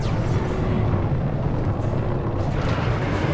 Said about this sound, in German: Au, schöne Explosion.